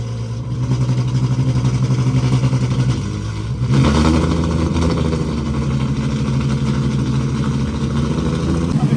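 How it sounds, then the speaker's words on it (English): Ferrari LaFerrari rolling in at a car show, its engine holding a steady, throbbing note before a deeper surge of revving midway, loud and close. "LaFerrari rolling in."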